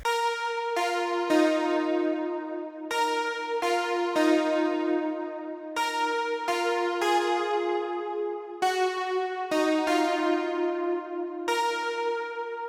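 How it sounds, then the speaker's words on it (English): Juno Synth Bells, a stock 80s-style hardware-library preset from Omnisphere, plays a slow melody of bright, ringing bell-like chords with clear attacks and long sustaining tails, heard alone at moderate volume. "It's from the hardware library called Juno Synth bells."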